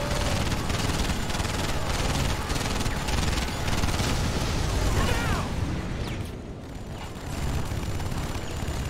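Units trading gunfire in Command & Conquer 3: Tiberium Wars, a dense continuous barrage of shots and explosions with a brief dip before resuming, under faint unit voice chatter.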